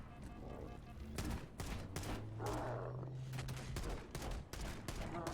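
Pistol fire in Halo rings out in several sharp, evenly spaced shots over a busy game mix, close and fairly loud.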